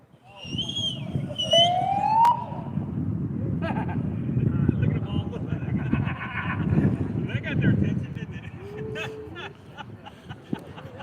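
A siren sounding outdoors in La Porte, Texas: a short wailing sweep rising and falling near the start, then fainter warbling bursts under loud people talking and crowd noise.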